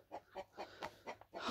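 Chickens in a coop clucking softly, a quick series of about six short clucks spaced evenly, faint and close, with no talking.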